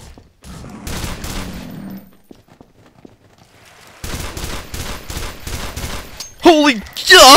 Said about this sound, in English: they'll keep shooting